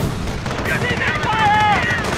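Gunfire in the PC real-time strategy game Company of Heroes, a steady barrage of shots and rumbling blasts that fills the whole moment, with faint battle-cry voices and whistling tones mixed into the din.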